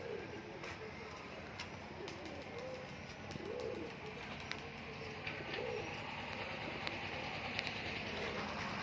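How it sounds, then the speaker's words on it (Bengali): Nichey baji tumbler pigeons coo softly in a loft, low repeated coos over a steady background hum with occasional clicks and faint voices nearby. "বাজিটা নিচে বাজি পায়রা আছে।"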